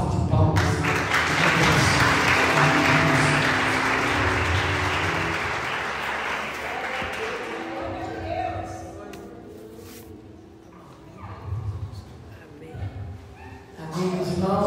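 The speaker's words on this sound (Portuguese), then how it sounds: "Uma salva de palmas." A church congregation claps together in a dense burst that fades over several seconds, after which a voice speaks over a quieter, reverberant room.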